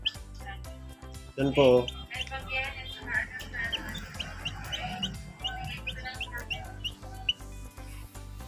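A newly hatched chick chirps and cheeps from inside a cracked fertile egg, with brief clucking-like calls scattered through steady talking nearby.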